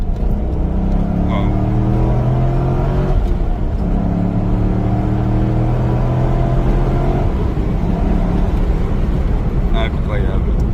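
Corvette C5 V8 accelerating hard with a steady rising engine drone, a brief lift and then another long pull, heard from inside the car under excited talk.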